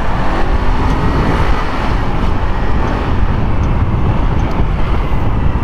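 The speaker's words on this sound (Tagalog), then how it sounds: "Ay, yung traffic na." Steady road traffic noise heard from a KRV Moto ABS TCS chain-drive motorcycle riding in heavy traffic in Taiwan, a constant loud engine and roadway rumble with passing vehicles throughout.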